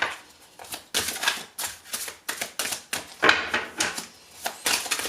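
Tarot cards being drawn and handled from a deck, a series of crisp papery slaps and snaps in quick irregular bursts, close and fairly loud, with no talk.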